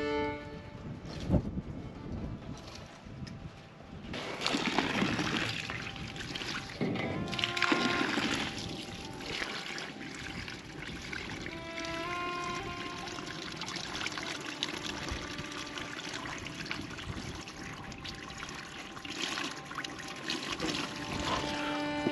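Water poured from a bucket for animals to drink in a dry desert camp, a continuous trickling splash and pour that swells after a few seconds and then runs steadily at moderate loudness, no talking.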